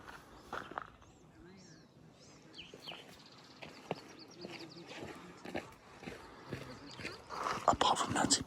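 Hiking boots tread a dusty rock path on the Bright Angel Trail, 2000 ft down in the Grand Canyon, giving soft, irregular crunching steps close by in a quiet, open setting with faint background sounds.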